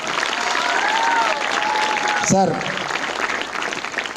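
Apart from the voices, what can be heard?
applause from students and officials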